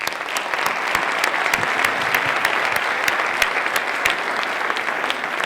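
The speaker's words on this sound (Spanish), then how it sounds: "la bienvenida a Manuel Alejandro Gardenete, con un aplauso mañanero, por favor" An audience at a congress claps steadily to welcome a speaker, a dense, even wash of applause from a fairly large crowd lasting several seconds without any voices over it.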